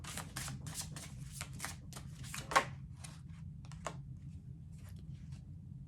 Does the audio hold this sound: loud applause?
no